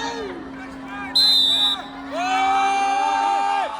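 A crowd at a traditional game at Nagaland's Hornbill Festival cheers and whoops loudly and continuously, with a sustained high shout rising above the mass of voices.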